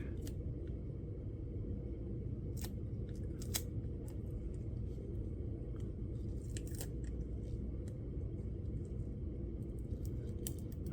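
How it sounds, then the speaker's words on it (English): Plastic backing being peeled away from a sticky white sheet, heard as a scattering of crisp crackles and snaps over a steady, loud rumbling background. "Come on now. Peel off of there, plastic."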